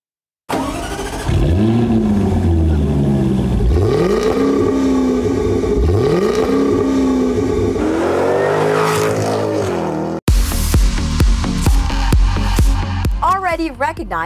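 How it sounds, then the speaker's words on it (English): A 2018 Jaguar F-Type sports car's engine revs loudly through repeated rising sweeps as it drives, then cuts off before a later stretch of varied sounds. "we have the 2018 Jaguar F-Type"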